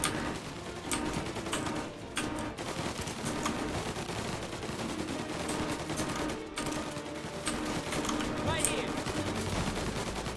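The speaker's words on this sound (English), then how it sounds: "right time to bring out the actual Tommy gun and kill these guys" A Tommy gun fires at gangsters in a video game, with sustained rapid bursts of gunfire layered over a steady, busy game soundscape and occasional speech.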